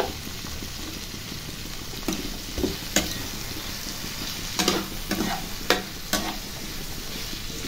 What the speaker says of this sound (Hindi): सारी सब्जियों को थोड़ा सा हल्दी और थोड़ा सा नमक देके अच्छी तरह हम लोग भूंज लेंगे